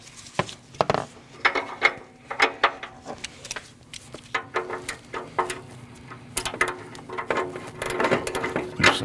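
Socket wrench loosening the upstream O2 sensor on a 2014-2023 Jeep Cherokee 2.4L L4, close irregular metallic clicks and ratcheting taps with scraping handling noise, no speech.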